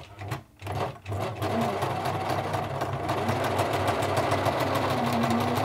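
A 1980s Singer Futura Electronic 2002 sewing machine stitches in reverse: after a couple of brief stuttering starts, its motor settles into a steady, close, continuous whirring hum with rapid needle chatter.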